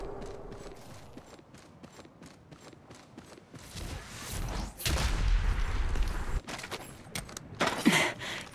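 Gunfire from a battle in Apex Legends Mobile, scattered bursts and clanking mechanical effects building into heavier booming shots toward the end, moderately loud with no voices.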